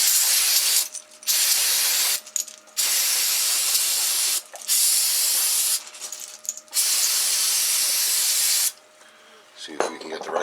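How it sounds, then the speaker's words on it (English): Brake cleaner sprayed onto engine parts during a 2002 Jeep Wrangler TJ engine swap, sounding as several loud, close hissing bursts of a few seconds each, separated by short pauses. "we'll use a little brake cleaner"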